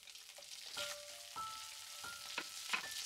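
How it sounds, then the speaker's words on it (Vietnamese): Carrots stir-fry in hot oil in a pan after shallots are browned, a faint, steady sizzle broken by several short scraping strokes of a spatula tossing them, with no voices. "thì mình cho cà rốt vào xào"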